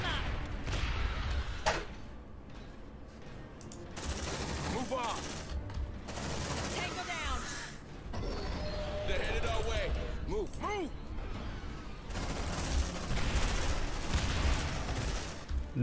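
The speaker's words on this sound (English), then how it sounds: "Suppressive fire" Suppressive gunfire in the video game Aliens: Dark Descent crackles in dense repeated bursts, loud and near, mixed with creature shrieks and game effects while someone talks over it.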